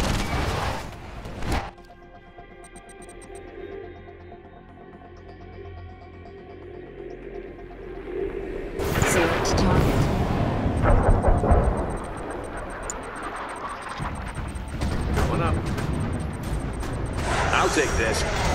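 In the Command & Conquer 3 Kane's Wrath real-time strategy game, heavy airstrike explosions erupt as deep booms and rumbling blasts amid battle noise, with radio-style unit voices calling out orders.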